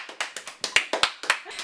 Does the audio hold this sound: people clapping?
yes